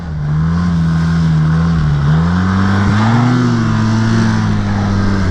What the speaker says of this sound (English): Kind of feel bad hitting the throttle too much.